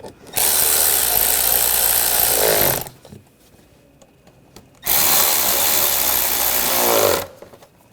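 A power tool tightens hose clamps on the intake snorkel of a 2004-2012 Chevrolet Colorado 3.7L, running in two loud, steady bursts of about two and a half seconds each with a short quiet gap between them.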